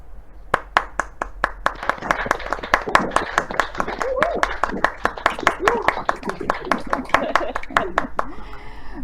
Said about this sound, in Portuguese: fazer uma salva de palmas para a Liliane pela linda palestra que ela acabou de nos oferecer